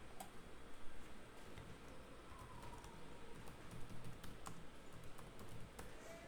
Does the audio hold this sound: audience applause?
no